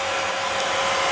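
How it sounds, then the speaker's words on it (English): A household vacuum cleaner runs with a steady, loud, broadband whirring roar that holds even throughout the short stretch. "Papa's teaching you how to vacuum."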